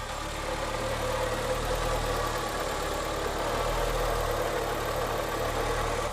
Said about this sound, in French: Il commence à faire un petit bruit de pompe à eau.